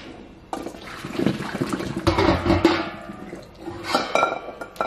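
Hot water poured off a pot of boiled eggs into a sink; a continuous splashing, gurgling pour starts abruptly and runs for several seconds, close by, with a faint clink of the pot.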